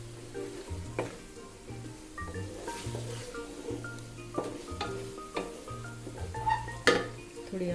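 A ridge gourd curry with coriander and green chilies stirred in a pot: a spoon clinks and scrapes against the metal in uneven strokes over a soft, steady sizzle, fairly close.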